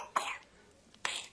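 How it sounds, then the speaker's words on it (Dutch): Two short, harsh coughs come a second apart, close and moderately loud, from a sick patient with a persistent, chesty cough. "dat is die stomme hoest"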